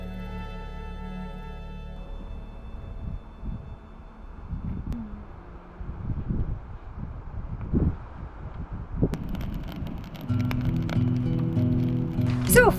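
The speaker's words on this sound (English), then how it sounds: "We're starting to feel little drops of rain, but hopefully this just blows right past us." Light wind gusts and scattered rain drops patter through a forest on a hike in Algonquin Park, with rustling and bumps from nearby movement and a faint tone at the start, fairly quiet and with no talking.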